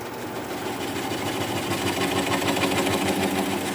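A wood lathe spins a weeping birch blank at about 400 RPM, giving a steady rapid mechanical whir and rhythmic thrum, close and unbroken with no talk.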